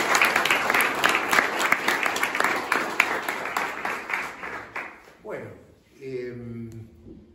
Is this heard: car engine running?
no